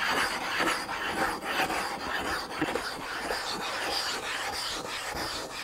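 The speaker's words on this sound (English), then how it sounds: "When we grind like this, and there's rough grinding to generate a curve" Rough grinding of a telescope mirror blank against a glass tool, with pitch still on the surface, gives a steady close gritty rasp with no pauses. Nobody speaks.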